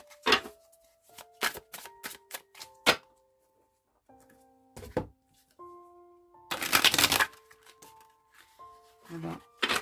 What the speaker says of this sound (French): On va essayer d'en prendre 2 autres.